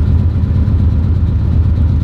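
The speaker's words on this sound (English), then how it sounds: "now the car is idling" A Mitsubishi 3000GT VR4 engine idles steadily with a deep, low rumble, loud and continuous throughout with no talking.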